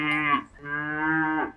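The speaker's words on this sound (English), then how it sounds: "The cow goes moo," A cow gives a single loud, close moo in two drawn-out parts, a short bellow followed by a longer sustained low call, with nothing else around it.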